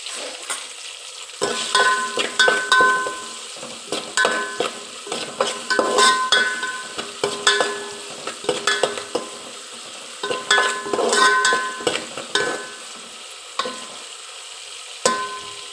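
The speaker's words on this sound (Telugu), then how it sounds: "ఇవి తొందరగా మగ్గిపోవడానికి కొంచెం సాల్ట్ వేసుకోవాలి. ఆనియన్స్ తొందరగా బ్రౌన్ కలర్ అవుతాయి." Salted onions frying in a pan, a steady sizzle broken by repeated scraping and clinking strokes of a spoon stirring against the metal, close up with no talking.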